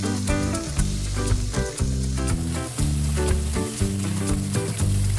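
Ginger and garlic sauté in a hot pan for chicken curry, making a steady, dense sizzle that holds without a break from start to finish.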